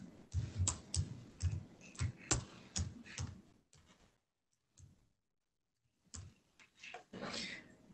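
Keys click sharply on a computer keyboard as a username is typed in a quiet room. A rhythmic run of keystrokes pauses briefly in near silence, then the typing starts again with a few more taps.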